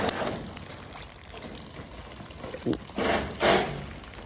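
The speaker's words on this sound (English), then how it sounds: "this downspout has a lot of water coming down. It's really noisy." Rainwater rushes down a gutter downspout on a historic barn, a loud, splashing roar that keeps running and swells into stronger gushes toward the end.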